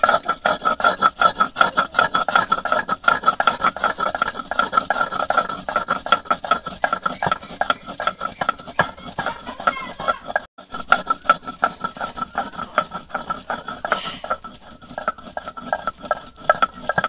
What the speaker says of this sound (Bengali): কড়াইটা গরম হতে হতে আমি ততক্ষণ এদিকে সর্ষেটা বেটে নেব